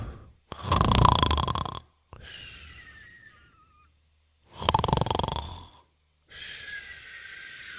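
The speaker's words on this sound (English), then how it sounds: "I heard you snore last night" Loud snoring repeats in slow cycles, each rough rattling inhale followed by a softer whistling exhale, close by and without talk.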